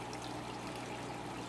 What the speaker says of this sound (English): while I change this water.